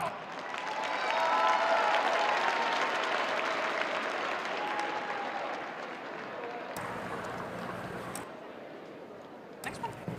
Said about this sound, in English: let's give a big round of applause to Bella.